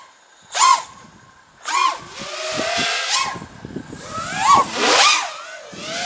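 T-Motor F60 Pro II racing drone motors spinning up in several separate bursts, each a whining pitch that rises and fades, with short quiet gaps and rougher rattling in between; close and fairly loud.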